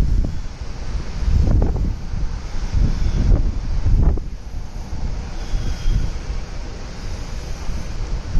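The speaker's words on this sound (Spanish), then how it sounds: "Hay un viento que recorre." Wind blows hard outdoors, loud gusty rumbles buffeting the microphone in repeated surges over a constant rushing roar, with no talk.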